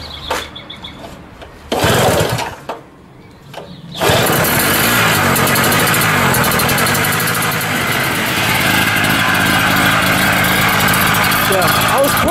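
Short pulls of a starter rope and sputters precede a small Kraftherrz 2 PS, 850 watt portable petrol generator catching and then running loud and steady, a continuous close-up rumble.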